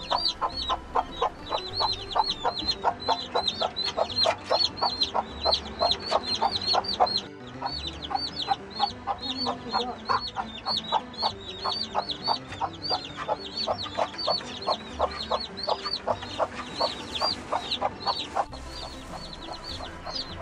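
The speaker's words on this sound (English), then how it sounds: "What's that cheeping noise? It's a worried mum and five new chickens." Constant high-pitched cheeping from five baby chicks, rapid and overlapping throughout, with occasional low clucks from the mother hen beneath.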